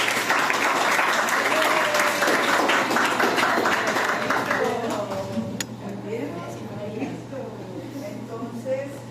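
Applause breaks out during a lesson on helminths, a dense patter of clapping for about five seconds before fading, while a voice talks underneath and carries on alone afterward.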